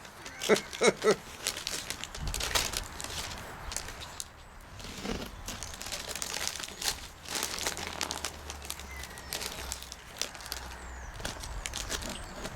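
A gift wrapped with duct tape is torn open, with crinkling paper, tearing tape and rustling handled close by in irregular bursts, with faint movement in the background.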